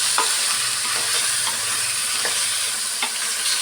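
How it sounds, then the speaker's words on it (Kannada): Chicken mixture for a field-bean chicken sambar fries in oil with a steady, close sizzle, broken by a few soft stirring scrapes. "ಈ ಥರ ಆಯಿಲಲ್ಲಿ ಚೆನ್ನಾಗಿ ಸ್ವಲ್ಪ ಫ್ರೈ ಮಾಡ್ಕೊಂಬಿಡ್ಬೇಕು."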